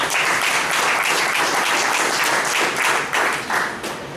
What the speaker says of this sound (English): let's once again give him a round of applause